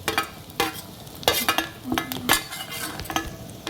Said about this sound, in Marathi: आता हे लाल परतून घेते मी, लाल होईपर्यंत